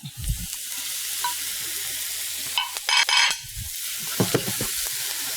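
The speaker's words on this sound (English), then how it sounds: "I'm gonna add my beans now." Green beans go into a pan of sizzling mushrooms with a steady frying hiss. A louder crackle and scraping bursts out near the middle, then tossing clatter follows. The sound is close, with no voices.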